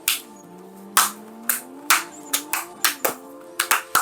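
Scattered hand claps, about a dozen sharp irregular claps over a few seconds, close and fairly quiet, with a faint tonal hum running underneath.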